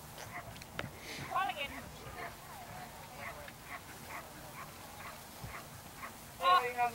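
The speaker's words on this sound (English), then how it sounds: "What kind of dog is that? German Shepherd, thought so." A German Shepherd at a protection dog trial barks in short, scattered yelps and whimpers, fairly faint and distant, mixed with outdoor voices and a louder flurry near the end.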